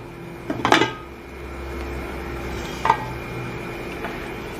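A metal lid lifted off a covered pot on a stovetop where a sponge cake bakes over medium flame: a clear clank, then a softer clink a couple of seconds later over a low steady hum.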